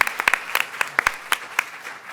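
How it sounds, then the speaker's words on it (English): A panel audience applauding its speakers at a leadership keynote, with brisk scattered claps over a short stretch of steady clapping. "a round of applause for our speakers so far"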